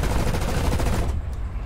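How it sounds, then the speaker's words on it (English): Aircraft guns chatter in a fast, dense burst during a deflection shot in a War Thunder simulator dogfight, loud and close, then cut off abruptly, leaving a lower engine drone. "I'm going to try a deflection shot here."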